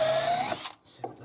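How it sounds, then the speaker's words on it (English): A cordless SDS drill with a 12 mm bit whines loudly at high speed boring into concrete, then stops abruptly and briefly restarts in short, weaker bursts. "it's putting a 12 mil drill bit through concrete like a hot knife through butter"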